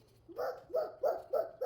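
A voice imitates a dog barking, four evenly spaced woofs in quick succession, close and clear.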